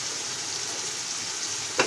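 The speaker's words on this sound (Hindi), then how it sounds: "अभी हम इसको इसी तरह से भूनेंगे" Masala with turmeric frying in a pan for kofta: a steady, soft sizzle that stays even throughout, with a brief louder hiss near the end and no voices.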